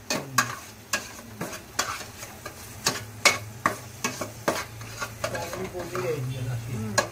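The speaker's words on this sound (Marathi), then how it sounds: "मस्तपैकी फ्राय करायचं चांगलं, म्हणजे सगळ्याचा उग्रच पण निघून जातो ना" Spices and onion fry in a pan for pav bhaji, with a spatula knocking and scraping against the metal in sharp, fairly regular strokes over a low frying hiss.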